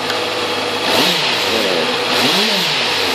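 A big bike motorcycle engine revving twice in quick succession, each blip rising and falling in pitch over a steady loud running drone, close by and with no talk.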